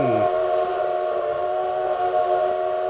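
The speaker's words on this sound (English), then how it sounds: "That train is loud." A Twitch hype train alert plays as a loud, sustained train horn chord over a rolling rail rumble, with a short descending whistle at the very start.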